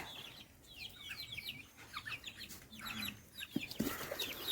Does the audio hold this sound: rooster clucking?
yes